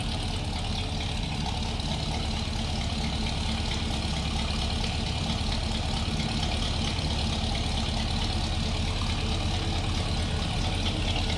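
A 1971 Chevrolet Chevelle Malibu hardtop with a 350 V8 idles steadily, close by, with a deep, even low rumble that holds throughout, and no voices are heard.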